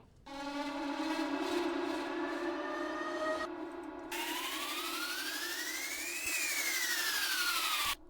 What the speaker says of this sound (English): And then a few risers here.